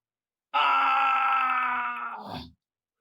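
A voice lets out a single loud, close, drawn-out groan that rises into a pained scream, voicing the comic character Doga in a Hindi comic-book dramatization. It lasts about two seconds and then breaks off.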